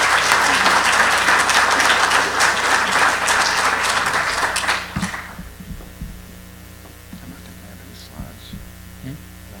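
Audience applause welcoming Gil Brechtel, president and CEO of MagNet, in a conference hall: steady dense clapping for about five seconds, then cutting off to a quiet room with low hum and a few faint sounds.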